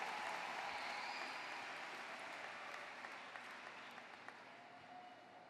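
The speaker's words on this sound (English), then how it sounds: "let's give these remarkable seniors a thunderous round of applause for a job done exceedingly well" A large graduation audience applauds for high school seniors, steady broad clapping fading slightly over several seconds, fairly distant and soft.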